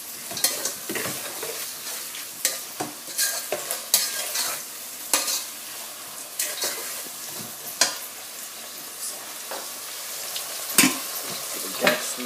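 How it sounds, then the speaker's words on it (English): A spoon stirs chicken curry with ginger in a hot pan, with repeated sharp scrapes and clacks over a low sizzle, the strokes coming irregularly throughout with no voices. "give it a stir"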